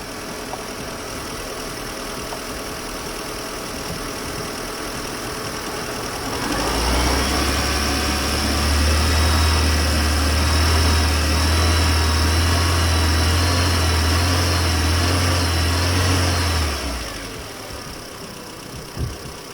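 A car engine idles, then rises to a steady raised hum at 2,500 RPM during a battery charging load test, holds there for about ten seconds, and drops back to idle near the end.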